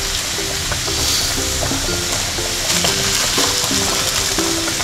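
Onions fry for a mutton curry, a constant dense sizzle with bursts of crackling close by, holding steady and fairly loud throughout, with no talking over it.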